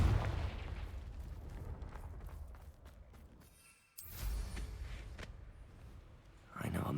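Confringo blasting spell in Hogwarts Legacy, heavy booming blasts with rumbling low-end bursts, a brief near-silent gap and then another loud eruption, mixed with speech.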